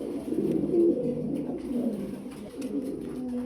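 Fancy pigeons coo softly and repeatedly in a quiet enclosure, low throaty burbling calls close by with no talking.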